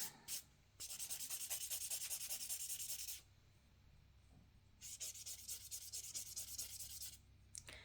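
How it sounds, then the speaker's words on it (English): A buffer rubs across a gel nail surface in two bursts of quick, rasping back-and-forth strokes, close and soft, separated by a short pause. "So I am going to buff just a little bit, just to ensure I have it nice and smooth."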